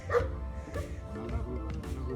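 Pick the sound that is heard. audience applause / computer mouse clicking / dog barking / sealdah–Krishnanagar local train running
dog barking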